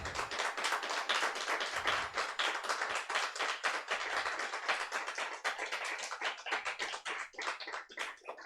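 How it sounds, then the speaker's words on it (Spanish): A church congregation claps together in a quick, steady rhythm of sharp hand claps for several seconds, the beat loosening toward the end, with no talk over it. "pido por favor un fuerte aplauso, con todo el ánimo"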